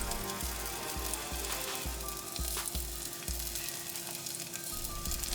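Green onion whites frying in a pan for mushroom rice, a soft steady sizzle with a few faint stirs, low in level under a repeating low pulsing hum, with no voices.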